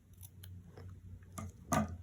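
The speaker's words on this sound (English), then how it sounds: "So I'm just gonna give it a quick trim on both edges." Scissors snip the edges off a planner sticker: a few quiet, crisp cuts spread over two seconds, the last one loudest, close up with no talking.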